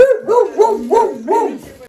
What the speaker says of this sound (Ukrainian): яка гавкає, але боїться